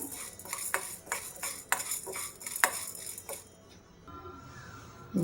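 Urad dal being fried in a pan, stirred with a metal spoon that scrapes and clinks against the pan in a steady rhythm for about three seconds before the sound settles to a quieter sizzle.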